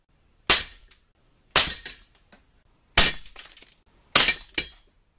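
Pellet rifle shots striking a Daisy hanging resetting target, four sharp cracking impacts spaced about a second apart, each with a brief bright rattle and one quick double hit at the end, close and without talk.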